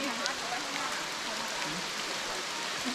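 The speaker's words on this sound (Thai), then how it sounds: "แต่ว่าตอนนี้คือฝนตก" Rain falling on a mountain trail at Phu Soi Dao, a soft steady hiss of drops on foliage and ground, fairly faint and continuous with no talk.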